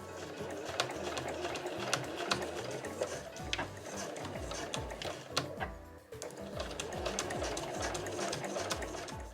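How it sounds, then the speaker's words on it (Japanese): A household sewing machine backstitches the handles of a quilted tote bag, its needle chattering in a fast, steady mechanical rhythm, close and continuous, with a brief pause where the stitching reverses direction. "持ち手は必ず返し縫いをします"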